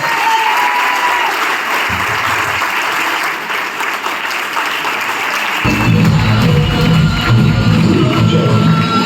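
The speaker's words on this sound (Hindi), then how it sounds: "एक बार जोरदार और जबरदस्त तालियां होनी चाहिए मेरी बड़ी बहन मंजू पाल जी के लिए सर" Loud, sustained applause from a crowd at a motivational achievers' gathering, dense steady clapping that swells fuller and heavier partway through and carries on without talk.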